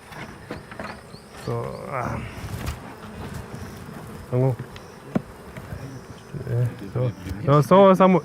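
Steady buzzing from many honey bees inside an opened beehive fills the clip, with intermittent speech and handling noises of propolis-covered frames over the droning hum.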